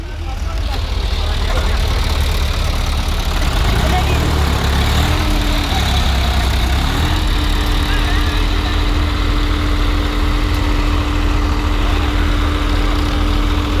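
Tractors working together to clear flood-damaged farmland run with a loud, continuous, steady engine drone and a rumbling low hum, holding constant throughout.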